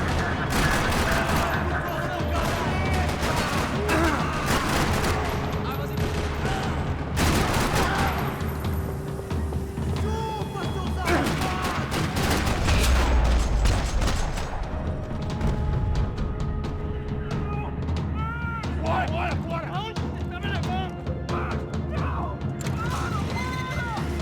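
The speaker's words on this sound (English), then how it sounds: "Another parking lot rattling with gunfire." Gunfire erupting in a parking lot in the video game Max Payne 3, with repeated bursts of shots, crashes and impacts over a busy background, loud and close, while speech runs alongside.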